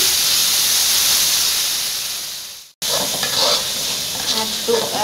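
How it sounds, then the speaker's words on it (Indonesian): Ground red spice paste fries in hot oil with fried shallots for squid and stink beans, a loud continuous sizzle that dips briefly, then resumes with stirring crackles. "masukkan bumbu halusnya"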